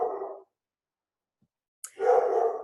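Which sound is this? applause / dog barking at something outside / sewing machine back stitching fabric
dog barking at something outside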